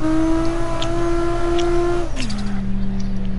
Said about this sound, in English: Why can you hear the turbo in his car?